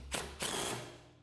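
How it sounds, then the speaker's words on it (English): Ratchet or wrench tightening bolts on a Maxwind centre brush: two quick close metallic ratcheting bursts, the second longer, trailing off quietly. "And then it's just a process of just tightening all the bolts up."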